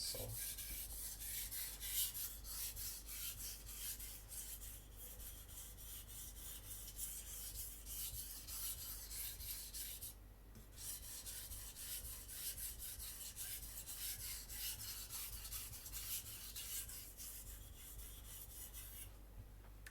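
A Takamura Migaki R2 gyuto knife is drawn steadily across a whetstone, giving a continuous close gritty rasping scrape with a brief pause midway before the strokes resume.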